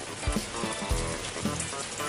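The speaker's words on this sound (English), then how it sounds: "Looks like the rain will never stop." Steady rain patters continuously in the Sakura School Simulator video game, a dense hiss of drops on a surface with a few soft low thumps, close and even throughout.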